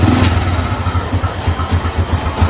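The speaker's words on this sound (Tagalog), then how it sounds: "So paandarin ko muna. Yan, sinusiyan ko, and then i-kick ko," A kick-started motorcycle engine idles loudly and close by, with a steady, low, pulsing chug that continues throughout.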